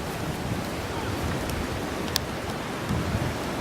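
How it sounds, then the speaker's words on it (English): Rain falling outdoors during a kite test flight, a steady hiss of rain with blustery wind noise and a brief tap, continuous and fairly close, no talk. "so it's now pretty much raining"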